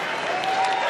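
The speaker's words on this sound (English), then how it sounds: "This crowd is not tiring of cheering." A large crowd applauds and cheers steadily at the Westminster Kennel Club Dog Show's Best in Show judging, a continuous loud wash of clapping filling the arena.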